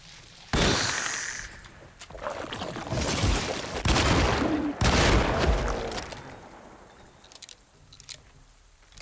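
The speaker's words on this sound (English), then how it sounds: "All the guns in this are so loud" Loud, heavy gunshots in the survival horror game Alone in the Dark, with a few sharp blasts and bursts of booming noise separated by short gaps, close and dominant with little else around.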